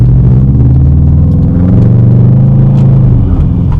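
A car engine drones loud and close inside the cabin during a manual 4th-to-3rd downshift, a continuous low rumble whose pitch shifts gently as the revs change.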